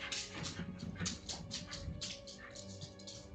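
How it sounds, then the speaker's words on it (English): A dog's claws tap on a wooden floor while it whimpers softly, with short, scattered clicks and faint whines running steadily through the clip at moderate distance. "It's our dog tap dancing on the wood floor,"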